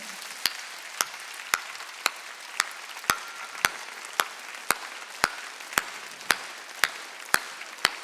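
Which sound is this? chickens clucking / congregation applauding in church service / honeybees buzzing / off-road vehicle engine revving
congregation applauding in church service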